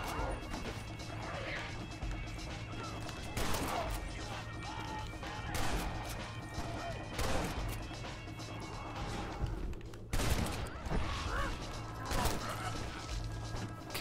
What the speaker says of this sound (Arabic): انفجر معاه قنبلة